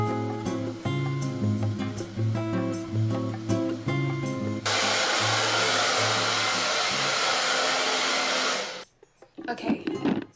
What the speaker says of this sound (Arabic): بس زين ان الاستشوار قومني